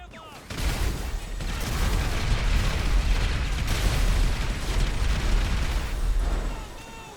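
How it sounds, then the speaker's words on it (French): A minigun fires in the FiveM game as a sustained, dense roar of rapid rounds lasting several seconds, loud and close, before it cuts off near the end. "On va sortir le minigun."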